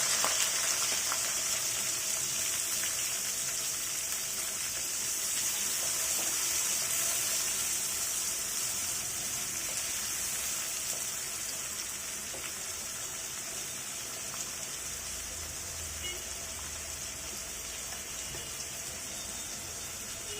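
Chopped onions frying in oil in a pan for a home-style Bengali chicken kosha, giving a steady, close hiss that is loud and continuous throughout with no talking.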